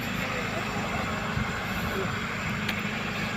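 A farm tractor engine labors while pushing, a constant low droning rumble heard at moderate volume with no clear breaks across the whole stretch.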